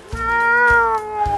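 A human voice imitates a cat with one long, drawn-out meow that rises and falls, loud and close, with no other sounds.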